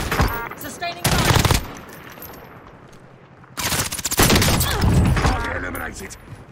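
Automatic gunfire rattles in Call of Duty Warzone, set in the battle royale map Verdansk: a loud, sustained burst, a quieter lull, then a second long, heavy burst of rapid shots, close and dominant.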